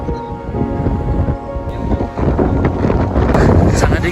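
Strong mountain wind on Mount Prau buffets the microphone with loud, continuous roaring gusts that swell and surge close up, with no other clear sound above it.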